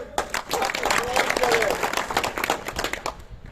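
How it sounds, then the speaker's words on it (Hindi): Crowd applause for a village sarpanch at a rural gathering, dense clapping with voices and cheers mixed in, fairly loud throughout the short burst. "भाई सतवीर सरपंच का तालियों से"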